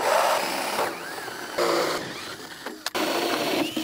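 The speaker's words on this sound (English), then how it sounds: "So let's drill the holes." A power drill whirs in bursts drilling holes in round pipe for a rain gutter grow system, starting and stopping several times, with a brief pause and a sharp click near the end.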